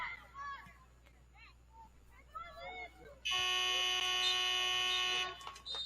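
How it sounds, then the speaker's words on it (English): A loud, flat electronic game buzzer ends a women's soccer match between Salem State and Plymouth State, blaring for about two seconds after faint crowd chatter and whistles, then cutting off. "And the final buzzer sounds."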